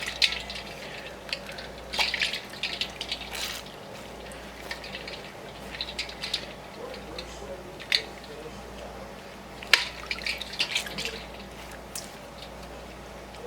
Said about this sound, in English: The cold water helps you to be able to squeeze it,